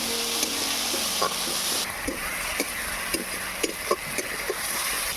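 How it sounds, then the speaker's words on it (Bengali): Steady oil sizzle of ginger, garlic and onion frying in a pan, with repeated scraping clicks of a spatula stirring, close and fairly loud throughout. "আদা রসুন পেঁয়াজটাকে লাল লাল করে ভেজে নেব।"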